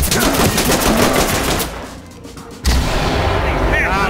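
Loud, rapid gunfire bursts in the tactical police shooter game Ready or Not, breaking off for about a second before firing resumes just as densely.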